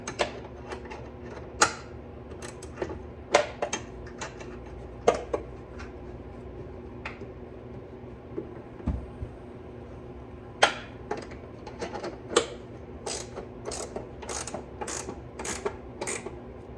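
A ratchet tightens an upper control arm bolt during preloading, clicking in short irregular bursts of sharp close pawl clicks with brief pauses between strokes, loud and alone.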